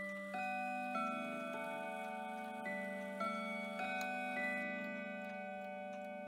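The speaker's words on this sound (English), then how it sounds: "I'll let you guys hear what the chimes sound like now." Howard Miller tambour mantel clock chiming the half hour: soft, resonant metallic tones struck one after another at a steady pace, each ringing on and overlapping the next, quiet and close with no talking.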